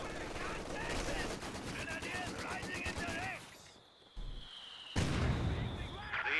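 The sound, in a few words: machine gun fire in Company of Heroes 2 video game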